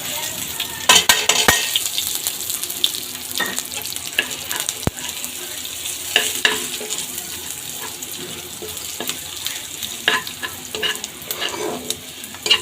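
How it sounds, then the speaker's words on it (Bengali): Whole garam masala spices fry in oil with browned onions for a spicy chicken curry, a steady close sizzle with scattered crackles and occasional stirring clicks, no one talking. "পুনরায় মশলাগুলো আবার একটু ভেজে নিচ্ছি।"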